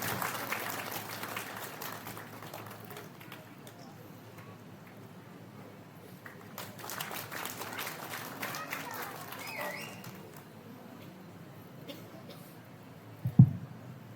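A crowd at the inauguration of a Bhagavata Saptaha yajna at Thrikkalanjoor Mahadevar temple claps in a loose, scattered patter. The clapping is fairly faint and rises and falls over several seconds, with some talk alongside it.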